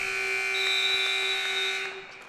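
An end-of-game buzzer sounds at a varsity high school basketball game, a loud sustained electronic tone held steadily for about two seconds before fading, with gym ambience and no clear talk.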